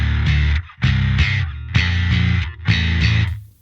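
Bass guitar played through a distortion effect, in the style of a band's bassist, four thick, gritty sustained notes with brief gaps between them, loud and alone.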